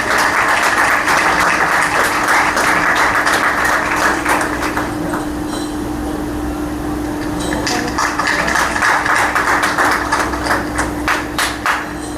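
Loud, continuous applause fills a Christian wedding ceremony, a dense crowd clapping for over ten seconds with a steady electrical hum underneath, easing slightly midway before swelling again.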